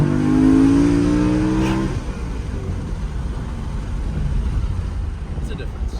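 BMW E92 M3 engine fitted with a K&N cold air intake revs up with a strong harmonic tone for about two seconds, then drops into a broad, steady rumble of idling and ambient noise.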